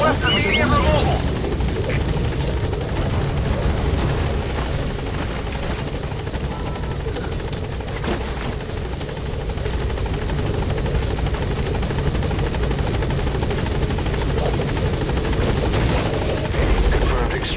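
Helicopter arriving in Metal Gear Solid 5: The Phantom Pain, a steady loud rotor drone throughout, with some game voice chatter layered over it.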